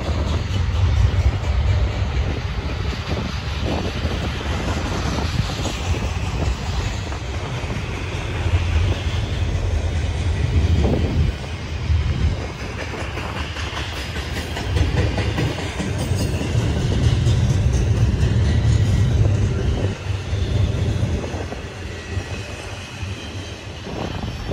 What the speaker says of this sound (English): there goes this intermodal that's heading east through Northwood, Ohio